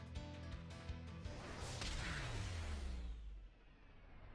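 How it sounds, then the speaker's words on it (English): Glass shattering effect from the card game Yu-Gi-Oh! Master Duel, a loud crashing burst that swells midway and decays into a low sweeping rumble over about two seconds, with game music running underneath. "I heard the glass on my field break"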